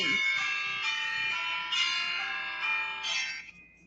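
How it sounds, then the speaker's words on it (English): Bells ring in a sustained, shimmering series of tones that overlap and slowly fade out at the end, fairly loud, with no talk over them. "I love the bells."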